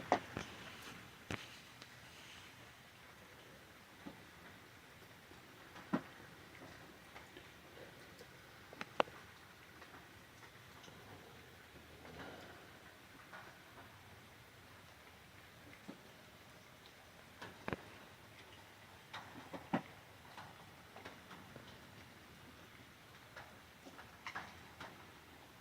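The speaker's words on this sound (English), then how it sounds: "We was enjoying the sound of the rain." Rain on a shanty on a mountainside falls as a steady soft patter with scattered sharp drips and ticks over about twenty-five seconds, quiet and close, with no talking.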